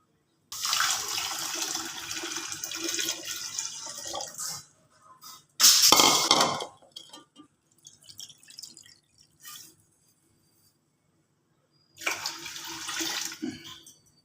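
One litre of thick, boiled and cooled milk is poured over fried bread for bread halwa, heard as a few close, splashy pouring bursts separated by silence.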